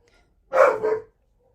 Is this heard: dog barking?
yes